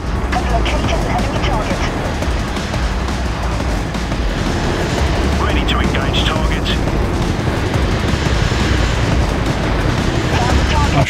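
Helicopter combat in Apache Air Assault on PS3: a loud, dense, continuous roar of rotor noise and rapid gunfire and impacts, filling the whole stretch without a break.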